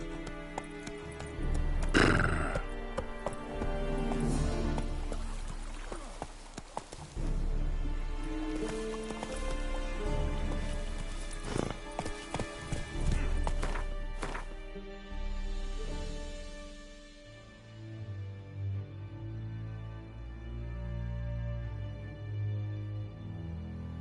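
In The Witcher 3, the horse Roach gallops with rhythmic hoofbeats under loud game music and effects. A whinny sounds early, and the action calms toward the end.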